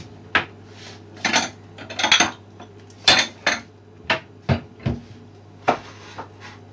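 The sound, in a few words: eggs being cracked over a small bowl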